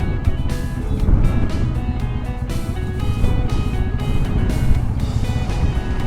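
Dense road traffic near Rameswaram toward Dhanushkodi, India, a loud continuous roar of engines close at hand, punctuated by horn tones and vehicles rushing past.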